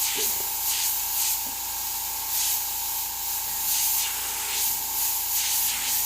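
An airbrush sprays candy purple paint in short, close hissing bursts, repeated every second or so over a steady compressor-like tone while a skull is shaded.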